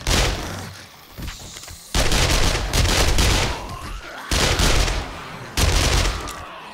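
Submachine gun fire in the zombie survival game 7 Days to Die, with several loud, close bursts of rapid automatic shots separated by short pauses, and no speech.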